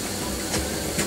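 Water pours steadily into a sink mixed with a little cleanser, ready for washing makeup brushes; a constant close broadband hiss with no talking.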